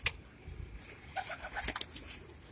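Male domestic pigeons kept for sale on a Karachi rooftop give soft, intermittent coos mixed with brief bursts of wing flapping, fairly close but quiet, with no talking.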